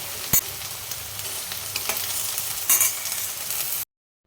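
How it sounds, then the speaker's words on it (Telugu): Okra pieces fry in hot oil in a pan while being stirred, producing a steady close sizzle with a few sharp scrapes, then cutting off to silence at the end. "ఇప్పుడు బెండకాయ ముక్కలు వేయాలి చక్కగా కలపాలి"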